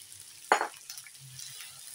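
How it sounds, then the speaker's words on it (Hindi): Potatoes lightly frying in a pan for aloo bhaji, with one sharp close scrape or clink of a spoon against the pan early on, followed by a faint, soft sizzle and no voices. "आलूओं को मैं इस तरह हल्के से फ्राई कर रही हूँ"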